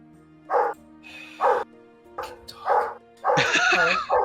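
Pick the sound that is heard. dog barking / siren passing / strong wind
dog barking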